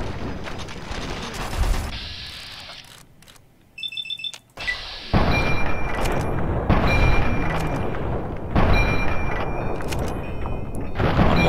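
Gunfire in Fallout 3: Point Lookout, loud booming shots amid dense combat noise, with a brief beeping alert partway through and no talk.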